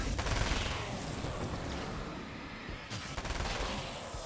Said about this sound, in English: Why are you throwing flashbangs?